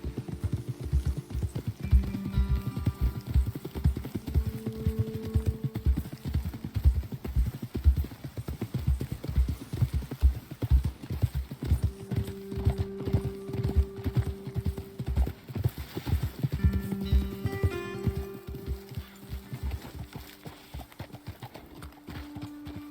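Horses in Red Dead Redemption 2 trot with steady, rhythmic clip-clopping hooves, close and prominent throughout, with a faint tonal musical bed underneath and no talking.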